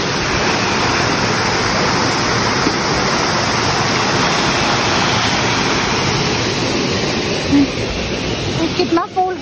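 Barati Rau waterfall in Uttarakhand roars as a dense, steady rush of falling water close by, drowning out everything else with a constant broadband wash.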